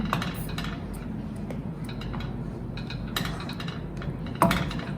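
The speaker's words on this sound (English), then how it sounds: "Then stir again." A spoon works through mac and cheese with black pepper in a cooking pot, giving soft scrapes and light clinks against the metal over a steady low background.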